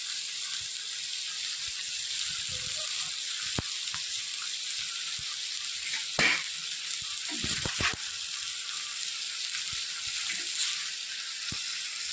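Prawns frying in a pan give a steady, quiet sizzle throughout, broken by a few sharp ticks and brief louder crackles, heard up close with no talking.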